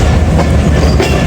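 13 Up Awam Express approaching Lala Musa Junction, a close, loud rolling rumble with rhythmic clickety-clack of wheels over rail joints.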